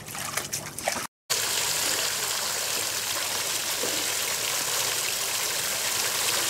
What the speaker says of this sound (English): the water's coming out of the top.